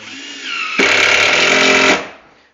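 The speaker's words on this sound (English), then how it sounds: "these hammer drills, they can go into the wood without countersinking" A hammer drill whines steadily, then jumps to a louder, harsher grinding as it bites into wood for over a second before winding down, during a kitchen installation.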